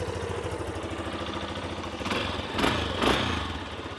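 A fuel-injected 2014 Yamaha Tricker XG250 motorcycle engine idles with a steady, even putter, then gets a few quick throttle blips that briefly rise in roar before settling back.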